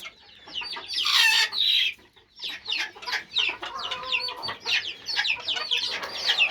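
Chickens cluck and squawk in a busy, overlapping chatter, with a rooster among them, close by and lively.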